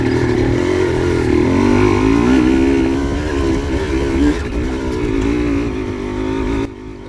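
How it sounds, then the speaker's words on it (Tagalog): Two motorcycle engines drone loudly and steadily nearby on a dirt trail, rising and falling as the bikes pass along, then the noise cuts off abruptly. "Yan dalawang motor, si Boss Dukoy at saka si Dudong Lumos."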